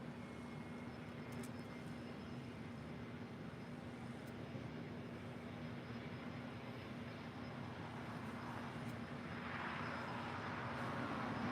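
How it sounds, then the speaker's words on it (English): A Gulfstream G450 business jet arriving at LAX, a steady broad roar with a sustained engine hum that swells slightly toward the end, heard at a distance with no talking. "This Gulfstream G450 is coming in from Monterey, California on FlexJet 468"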